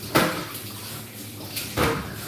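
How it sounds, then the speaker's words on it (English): Water splashes into a bowl of banana mixture for deep-fried banana balls, two short splashy bursts near the start and end, close and fairly loud over a quiet kitchen background. "Put water in it immediately."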